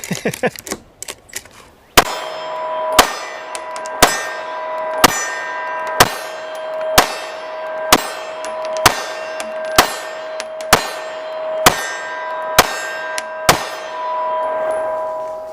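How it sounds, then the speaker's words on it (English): Smith & Wesson Performance Center M&P Shield Plus pistol firing 115 grain full metal jacket rounds: about a dozen sharp, loud shots at a steady pace, each followed by a ringing metallic clang. "Shooting some 115 grain full metal jacket."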